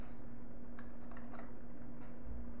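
Keystrokes on a computer keyboard as a command is typed in a Linux lab session, a few sparse, close clicks over steady low electrical hum with no talking.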